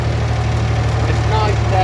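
A Ford 4000 tractor engine runs at full throttle in low reverse on a farm, a loud, steady low diesel drone with a knocking undertone, while someone talks over it.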